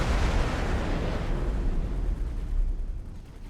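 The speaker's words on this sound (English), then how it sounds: "Incoming missile." A missile explodes in the space game X4 Foundations, a loud broad rumbling blast that stays heavy throughout and tails off slightly at the end, with no talk over it.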